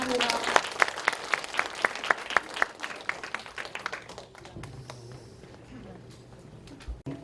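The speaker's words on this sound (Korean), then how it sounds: "지금까지 발표한 발표자 박수요" Audience applause for the student presenters at a youth World Heritage ambassador completion ceremony in Buyeo: a hall's crowd claps steadily and rhythmically at first, then thins out as the clapping fades to a quieter murmur.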